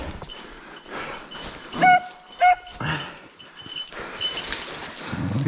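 Hunting dogs give a few short, high whimpering whines in a quiet outdoor setting during a driven hunt for boar and deer, with rustling and faint movement around it.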